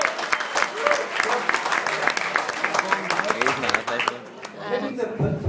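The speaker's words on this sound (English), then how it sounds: "Give her a clap." Applause from a crowd at a club gathering, steady clapping for about four seconds that fades and stops, with someone talking over it throughout.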